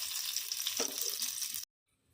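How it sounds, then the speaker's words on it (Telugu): Ground spice powder mixture frying in hot ghee, a loud, bright continuous sizzle with a brief stirring scrape partway through, close up, then abruptly cutting to near silence. "నెయ్యి కాగిన తర్వాత ఈ పొడిని ఇందులో వేసుకొని వేయించుకోవాలండి"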